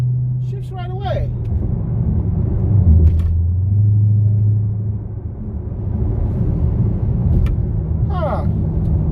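Dodge Hellcat car driving in eco mode, a low engine drone that dips and rises as it shifts gears, with people talking over it at moments.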